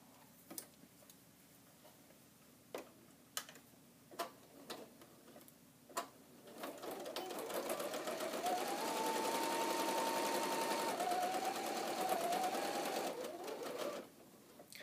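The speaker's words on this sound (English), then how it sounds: "Sew the top edge as well." A sewing machine stitching a fabric face mask gives a few scattered ticks and taps, then runs in a steady, close, whirring burst for about seven seconds before stopping.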